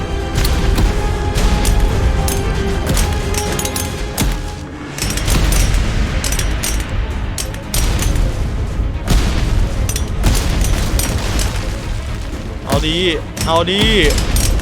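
Dense, loud bomb explosions in ARK: Scorched Earth, with rapid crackling blasts mixed under excited talking throughout.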